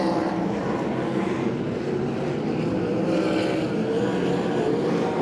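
Sprint cars racing at Timmis Speedway on a dirt oval, a steady dense engine roar from the pack holding position, loud and continuous throughout with no talk.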